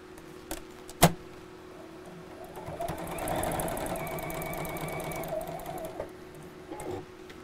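A domestic sewing machine stitches a seam on fabric for a biscornu pin cushion, a fast, even mechanical chatter that starts and stops, with a sharp click near the start, faint and close.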